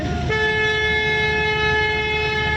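A car horn sounds in one long steady blast on a learner's driving-lesson car, starting just after the beginning and holding loud and unbroken to the end, alone without talk.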